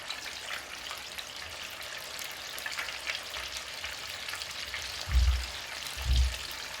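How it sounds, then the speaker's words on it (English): Chicken wings deep frying in hot oil give off a steady, close crackling sizzle, with a couple of low thumps near the end. "And when you're deep frying, you'll always know when whatever you're frying is done"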